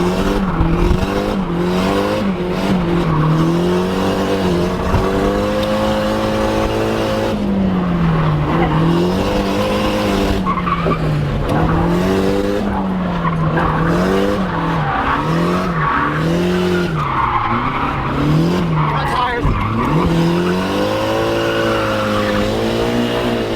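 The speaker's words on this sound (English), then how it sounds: "I'll insert a clip right now of us drifting this car last night" A Nissan S14 engine revs and wails continuously while drifting, tires squealing and skidding in wavering bursts, loud and sustained throughout, with no talking.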